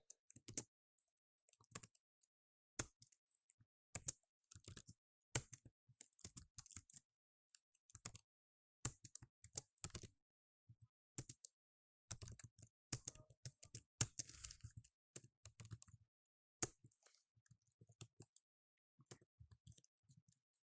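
Someone types code on a computer keyboard, with quiet, close keystrokes arriving in irregular bursts and short pauses over about twenty seconds and no talking.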